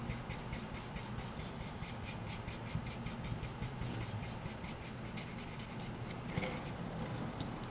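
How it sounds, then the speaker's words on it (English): Spectrum Noir colored pencils blend color on paper, a faint rhythmic scratch of quick, evenly spaced strokes rubbing back and forth, close and quiet with no talking. "And I'm now blending with my pencils."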